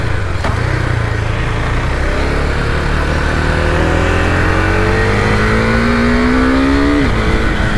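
A 2020 Husqvarna Vitpilen 401 motorcycle engine revs up loud and close, its pitch climbing in a long rising sweep through the gears before dropping off, with no speech.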